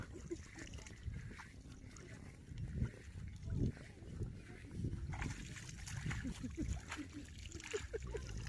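A small child plays and bathes in water, splashing and sloshing in repeated uneven bursts nearby while voices talk over it.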